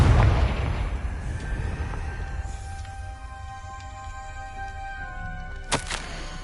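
A Confringo spell blast in Hogwarts Legacy: a heavy booming explosion at the start that decays into a long rumbling tail with ringing tones, then a sharp crack late on.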